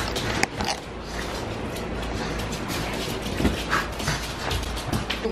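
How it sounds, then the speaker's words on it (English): Dogs at home whimpering and letting out short yips, a busy, close stretch of high whines and scrabbling with a sharp yelp near the start, no voices over it. "This is the fun I have, you guys, with my bad dogs."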